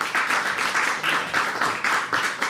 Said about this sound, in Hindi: जोरदार तालियां एक बार भाई के लिए।